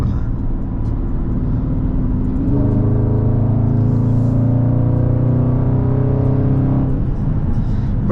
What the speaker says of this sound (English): this mid muffler delete, bro, it just makes the car sound fire.